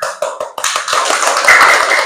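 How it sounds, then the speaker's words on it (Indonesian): A classroom group claps hands together in a lesson cheer, sharp close taps at first that merge into a dense, loud, sustained patter. "Tepuk untuk kita semua."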